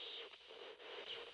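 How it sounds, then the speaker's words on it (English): Radio static hisses in Friday the 13th: The Game, a brief, faint burst of crackling white noise with a couple of slight dips. "Sound effects from the radio."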